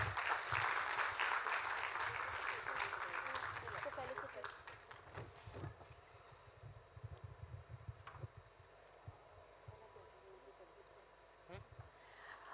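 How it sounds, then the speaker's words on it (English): An audience at a Bharatanatyam dance debut performance claps loudly for the guests, the applause fading out over several seconds into scattered claps and quiet hall noise. "A round of applause for all our guests."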